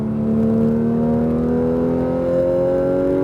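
A Porsche 911 GT3 RS of the 991 generation on a racing circuit pulls hard after an upshift, its engine note a loud, steady, rising whine that climbs smoothly through the whole stretch with no voices.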